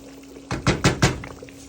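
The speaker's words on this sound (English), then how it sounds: "We are adding our rice now." Raw rice goes into a pot of jollof base with fish in it, landing as three quick, close pouring rushes with soft thuds, followed by a brief trailing patter.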